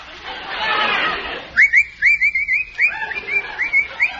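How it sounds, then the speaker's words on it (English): After a brief breathy rush, a short tune is whistled in quick chirping notes, close and fairly loud, with a playful up-and-down rhythm. "What are you whistling for?"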